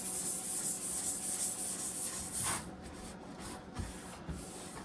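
Kitchen grease being scrubbed in circular motions gives a soft, continuous rubbing and swishing, faint and close, growing quieter partway through with a few light knocks.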